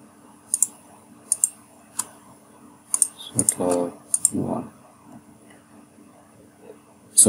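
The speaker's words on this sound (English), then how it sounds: "click on execute" Computer mouse clicks while running a report in SAP software, a few sharp, close clicks spread out over several seconds with brief soft voice-like sounds between them.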